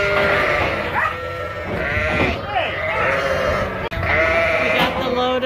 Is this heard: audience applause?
no